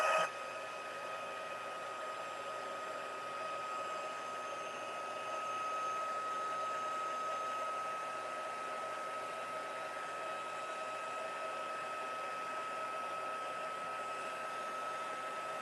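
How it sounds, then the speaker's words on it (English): A heat tool blows hot air to set embossing powder on a stamped card, a steady, even whooshing hum that runs unbroken and fairly loud throughout, with no talking. "Grab our heat tool and we'll heat that up."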